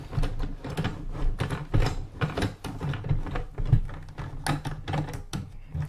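Racing wheel being fitted back onto a desk, a run of close plastic knocks, thumps and clicking mechanism sounds at an uneven pace, moderately quiet and without speech.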